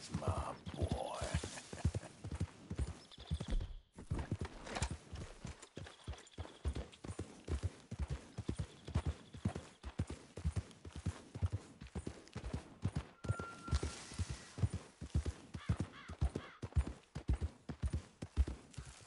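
Horse hooves clip-clop at a steady rhythmic gait in Red Dead Redemption 2, close and continuous for about nineteen seconds with a regular beat of sharp hoof falls and no speech.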